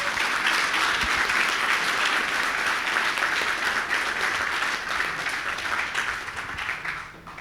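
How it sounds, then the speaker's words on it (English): Crowd at a security conference talk applauding, a full steady round of clapping lasting several seconds before fading out near the end. "Start with a round of applause."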